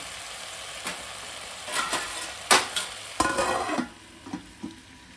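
A curry sizzling in a pan while a spoon stirs it, giving a few sharp scraping strokes over a constant frying hiss, close and fairly loud.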